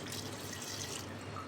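Water pours steadily into a pressure cooker holding overnight-soaked chickpeas, a soft, continuous splashing flow with no pauses and no voices.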